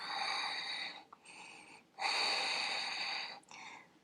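Loud, breathy exhalations during a Pilates exercise, one long push of air, a short pause, then another long sustained breath and a brief final puff, close and without talk.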